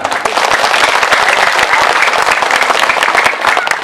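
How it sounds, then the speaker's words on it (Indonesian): Applause from the audience at an Islamic religious gathering and wedding celebration in Central Java: dense, steady clapping from a crowd, sustained and fairly loud throughout the few seconds. "tepuk tangan."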